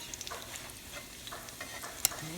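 Salmon patties frying gently in a pan, with soft intermittent sizzling and small clinks as they are turned over, fairly quiet throughout.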